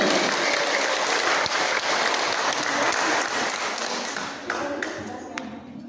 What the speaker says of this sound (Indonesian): semua tepuk tangan dulu